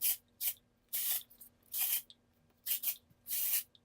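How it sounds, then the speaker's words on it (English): Amika Un.Done Volume and Matte Texture Spray misted onto hair in six short hissing bursts, close and distinct, with brief pauses between each spray. "I'm using Amika Un.Done Volume and Matte Texture Spray"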